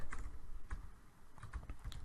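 Quiet, close typing of code on a computer keyboard: a quick irregular run of soft key clicks with a short pause midway.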